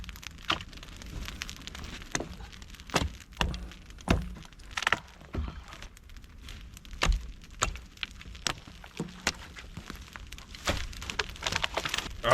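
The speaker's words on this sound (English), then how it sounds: "Oh man, I love fire. That's a big fire." Big outdoor campfire crackling and popping in freezing cold, sharp irregular snaps and thunks over a steady low hiss, fairly close, no talk.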